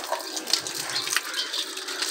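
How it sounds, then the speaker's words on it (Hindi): Water gushing and splashing steadily as a car is washed in a village, a continuous hiss of spray close by with no talk. "ये भाई गाड़ी साफ कर रहे हैं।"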